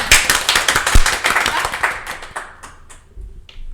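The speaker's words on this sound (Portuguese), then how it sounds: "Palmas, certo? Palmas" A small group claps at the close of a podcast episode: loud, rapid claps that thin out and fade to a few scattered ones before near silence.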